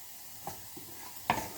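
Garlic and shallots stir-frying in a pan for pad Thai give a soft, low sizzle with a few light scrapes and taps of a utensil, close and fairly quiet.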